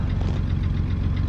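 A Ford Ranger engine runs steadily just after a cold start on a snowy day, a close, even low rumble with a faint knocking rhythm and no voices.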